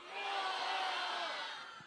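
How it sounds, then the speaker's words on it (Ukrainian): A festival crowd at Ше.Fest 2016 shouts their own names all at once, a single loud, jumbled mass of voices that swells and fades over a couple of seconds. "Давайте кожен на 3-4 вигукне своє власне ім'я."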